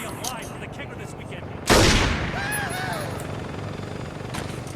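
In Saints Row 2 a submachine gun fires at a helicopter, a sudden loud gunfire burst that fades over a constant rotor drone, with game sound effects around it.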